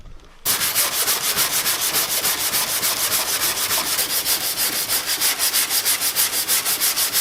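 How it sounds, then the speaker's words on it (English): Hand sanding of body filler on a car bumper begins abruptly and keeps going in loud, close, rhythmic back-and-forth scrapes of abrasive paper, steady strokes repeating throughout. "You can watch me sand stuff."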